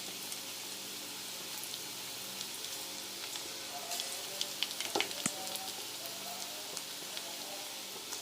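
Onion pakoda fry in hot oil in a kadai, giving a constant soft sizzling hiss with a few louder bubbling crackles near the middle and no voices.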